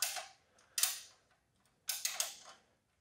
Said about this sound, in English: we'll be removing the oil drain bolt using a 14 millimeter socket